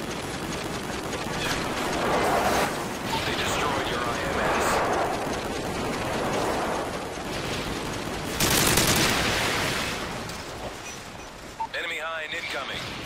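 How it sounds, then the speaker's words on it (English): An enemy airstrike rains down in Modern Warfare 3, with continuous rumbling blasts and gunfire that build into a loud burst partway through. Game voice callouts are heard over the noise. "Enemy airstrike approaching"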